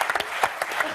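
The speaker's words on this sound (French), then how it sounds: "Applaudissements." Brief burst of studio audience applause on a French television show after a magic trick by an illusionist, dense clapping throughout with a few louder accents.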